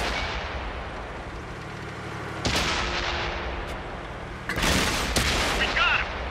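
A T-62A tank cannon fires in World of Tanks, with heavy booming blasts that come twice over a steady rumbling engine background, loud and close.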